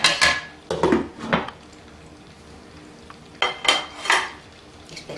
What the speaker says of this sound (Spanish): es calentar el aceite, pochar un poquito la cebolla y a continuación poner las patatas